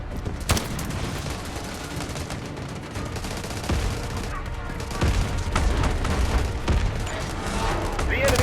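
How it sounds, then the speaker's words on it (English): Artillery barrage in the mobile shooter Delta Force: Mobile, with loud, dense booms and rapid gunfire crackling continuously, heavier blasts landing near the start and again around the middle. "Artillery barrage incoming."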